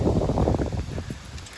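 Wind gusts outdoors on a stair-climbing walk, a loud low rumbling buffet against the microphone that is strongest at first and eases off over a couple of seconds, with no talk.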